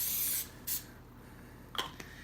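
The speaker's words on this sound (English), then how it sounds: "I'm just going to spray it with a little bit of, this is grapeseed oil." Grapeseed oil sprayed from a can onto a breadcrumb topping on baked macaroni and cheese: a longer close hiss, then a short second burst, followed by faint small clicks and handling sounds.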